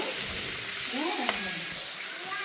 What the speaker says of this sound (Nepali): त्यो पनि यहाँ भुट्नुपर्छ